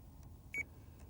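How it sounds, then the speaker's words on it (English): A single short electronic beep from a pike-fishing bite alarm at the waterside, brief and fairly clear over a low background rumble. "I'll just turn the alarm off again because it's annoying."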